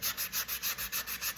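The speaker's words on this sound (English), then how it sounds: "This is a sanding pad that's flexible." Rhythmic back-and-forth scrubbing of a flexible sanding pad over dried air dry clay, about seven even strokes in quick succession, close and steady with no talking.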